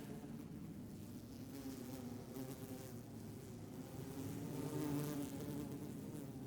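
Bees buzz steadily in a secret bee area in the climbing video game Cairn, a soft continuous droning hum that swells slightly toward the end, with no talk.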